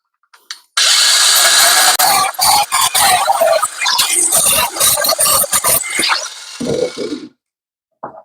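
A big angle grinder cuts into the rusted boot floor of an MPI car, loud and close, its harsh whine repeatedly catching and stuttering before stopping near the end.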